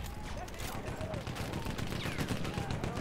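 Sniper rifle fire in the World War I shooter Battlefield 1, with a dense barrage of battlefield gunshots and explosions rumbling continuously at moderate loudness under a noisy combat din.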